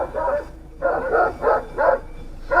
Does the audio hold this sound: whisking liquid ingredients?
no